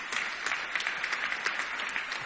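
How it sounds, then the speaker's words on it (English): An audience at a conference in Budapest applauds a talk, a short burst of dense, steady clapping from many hands. "Let's give Kevin a round of applause"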